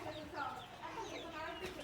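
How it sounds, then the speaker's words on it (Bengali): Chickens cluck softly in a chicken farm, a low murmur of overlapping clucks under a faint voice. "এই যে মুরগি, যাও ওই পাশে, যাও যাও, তুমিও যাও।"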